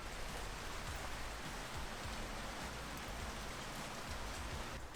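Steady rain pours down in San Francisco, a dense, even hiss of drops on surfaces that runs unbroken throughout with no voices.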